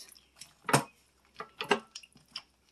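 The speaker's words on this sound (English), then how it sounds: "I'm going to give the soup a good mix" Meatball soup with noodles is stirred in a pot, giving a few soft clinks and liquid sloshes, with two louder spoon-against-pot knocks among quieter scrapes, close and alone.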